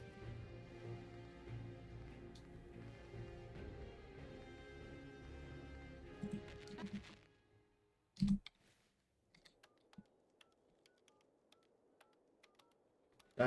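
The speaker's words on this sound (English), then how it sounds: "I guess we just need to key in the 10 numbers that correspond to the word refreshing." A steady electronic hum, a dial tone in the video game Mega Man Battle Network 2, fills the first seven seconds, then one sharp tone burst and a few faint keypad clicks and beeps against near silence.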